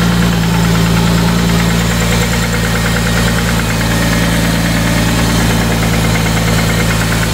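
Ford Taurus with an OHV engine idling with a persistent tick after a valve cover gasket job, a steady loud mechanical running with a continuous rapid ticking throughout, close up and without talk.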